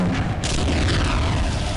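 A loud, dense blast from a pulse rifle grenade in the game Half-Life, a broad rumbling boom that fills the whole clip and decays only slightly, with no voices over it.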